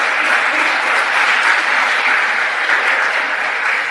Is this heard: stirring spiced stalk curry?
no